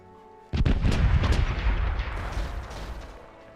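A sudden heavy boom of ship cannon fire from the naval game Corsairs Legacy, with rumbling blasts and crackling that slowly die away, no voices.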